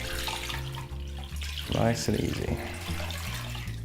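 Tap water runs into a pan holding a ham, a brief rushing splash that rises in the middle of the clip, heard under a person speaking briefly and a steady background hum.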